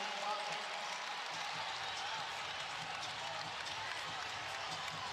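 Arena crowd noise at a Kentucky vs. West Virginia NCAA women's basketball game, a steady broadband roar of cheering fans under a commentator's voice.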